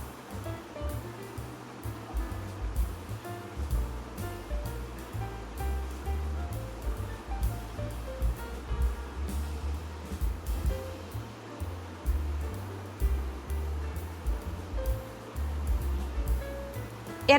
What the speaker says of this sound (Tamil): அதை இதில் போட்டு ஒரு 2 நிமிஷம் வதக்கி எடுத்துக்கலாம்.